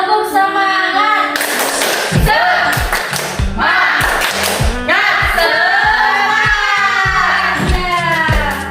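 A class of children repeats a rhythmic cheer clap, crisp clustered hand claps in a steady pattern with the whole group chanting together loudly nearby.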